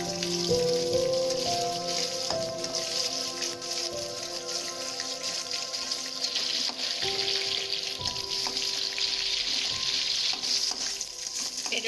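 Cumin, dried red chilli, urad dal and onion frying in oil, giving a continuous close crackle and sizzle with occasional faint utensil taps.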